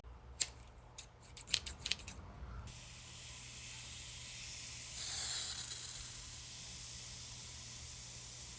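A few quick snipping sounds come first, then a long steady hiss of spray starch from a can that grows stronger partway through and keeps going.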